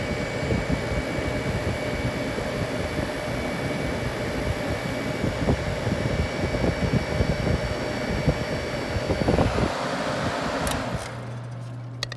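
An air conditioning unit hums and whirs steadily during a pump down, a continuous mechanical drone that cuts off near the end, leaving a quieter hum.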